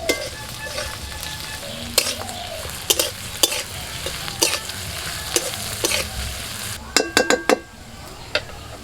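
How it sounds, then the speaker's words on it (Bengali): Onions fry in a pan with chili and five-spice, giving a continuous sizzle broken by sharp metallic scrapes and clinks of a spoon stirring, some in a quick cluster near the end. "আগে পেঁয়াজগুলো ভেজে নেবো।"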